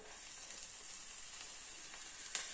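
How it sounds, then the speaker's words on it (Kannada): Okra pieces coated in spice masala fry in hot oil over a low flame, a soft, steady crackling sizzle with a faint sharp pop near the end. "ಆ ಬೆಂಡೆಕಾಯಿಗಳನ್ನ ಇವಾಗ ಆಯಿಲ್ ಅಲ್ಲಿ ಹಾಕಣ"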